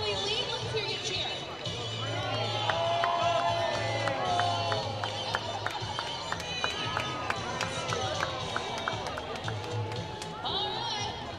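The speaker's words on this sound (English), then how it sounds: "Let's hear you cheer." A large baseball stadium crowd roars and cheers continuously, with whoops and scattered claps rising through a dense, sustained wall of noise.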